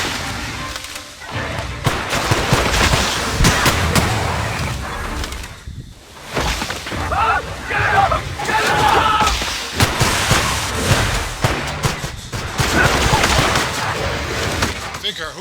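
Repeated gunshots and thumping impacts from combat in The Outer Worlds on Switch come in loud, uneven bursts for the whole stretch, mixed with other game noise and a voice talking.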